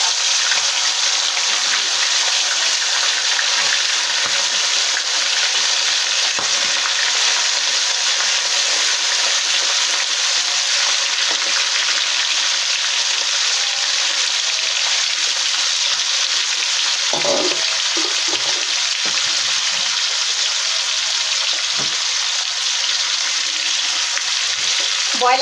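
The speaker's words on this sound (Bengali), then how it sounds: "এখন আস্তে আস্তে ফার্স্টে চিকেনগুলো একটু ভেজে নিই" Broiler chicken pieces fried in hot oil make a loud, constant hissing sizzle for almost the whole stretch, dense and unbroken, with faint clinks and soft movement underneath.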